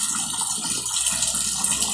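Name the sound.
water filling Electrolux automatic washing machine drum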